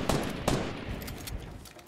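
Rifle gunfire in Fortnite: two sharp close shots in quick succession followed by fainter scattered shots fading out, with no talk.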